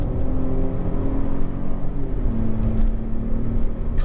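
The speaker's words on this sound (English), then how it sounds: "It changes the sound inside the car," A Citroen DS3 Crossback in sport mode plays a synthetic engine sound inside the cabin, a steady low droning hum with a rising tonal note, continuous and fairly loud with no talk.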